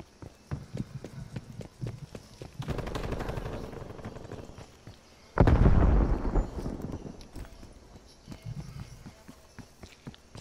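Bomb blast in a video game: a sudden heavy explosion about halfway through that rumbles and decays over roughly a second, after an earlier stretch of rushing noise and scattered footsteps and clicks.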